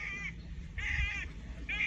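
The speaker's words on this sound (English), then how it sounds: "you hear that bird?" A bird calls three times in short harmonic bursts at an even pace, heard clearly over a low background rumble.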